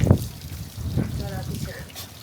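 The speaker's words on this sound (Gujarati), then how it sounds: "અરે ઝીબુ નર્મદાના પાણીથી તને નવડાવે." Water poured over a dog during an outdoor bath on a rooftop terrace, splashing and trickling in short bursts close by, with people talking over it.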